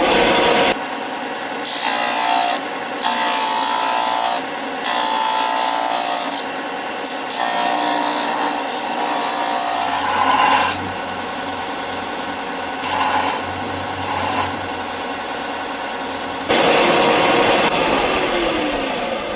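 Hand sanding of a small purpleheart wood bottle opener made from scrap wood: repeated bursts of harsh, close, loud rasping strokes separated by brief pauses, with a low hum underneath in the later part and no talk.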